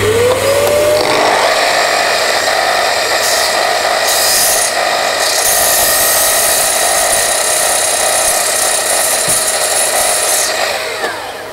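Power saw cutting through a reclaimed wooden scaffold board in a workshop, a loud, steady high-pitched whine and rasp running continuously for about ten seconds before winding down.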